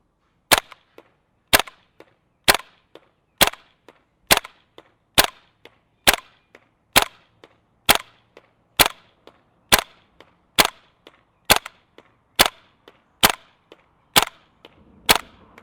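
A GHK G5 gas blowback airsoft rifle fires about twenty evenly spaced sharp single shots at a cardboard target, each a crisp close crack followed by a brief faint clack, with no voices.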